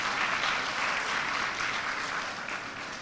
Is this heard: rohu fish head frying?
no